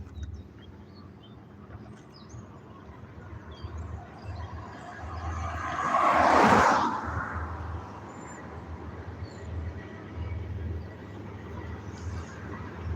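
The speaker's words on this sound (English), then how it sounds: "We got a third train coming up the tracks headed north." A Norfolk Southern freight train headed north on the tracks, a distant steady rumble that swells to a louder, nearer pass midway before easing back into low background noise, with faint bird calls.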